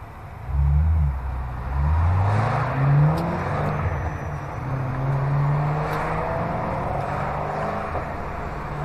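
An Audi RS4 revving nearby, a loud sustained engine roar with rising and falling pitch as it accelerates, heard with no voices over it.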